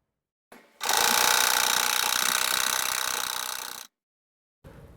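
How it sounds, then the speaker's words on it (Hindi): A sewing machine runs steadily for about three seconds, stitching a purse or clutch lining, loud and close with a brief start and stop and no talking. "एक साइड में ऐसे ही इसे यहाँ से सिल लेंगे।"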